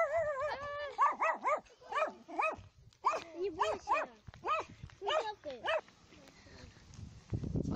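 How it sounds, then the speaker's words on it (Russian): A small dog barks repeatedly at a seaside holiday village in Crimea, a close run of sharp, yelping barks in quick bursts with short pauses, and a person speaks briefly near the end. "И даже собачка тут такая бегает."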